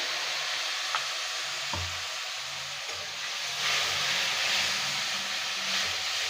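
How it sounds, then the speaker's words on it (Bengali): A splash of water goes into a hot pan of oil and coarse-ground spices for a village-style Bengali prawn dish, giving a steady, moderate hissing sizzle that continues for several seconds and grows slightly louder partway through, with a few soft knocks underneath. "একটু জল দিয়ে দেবো"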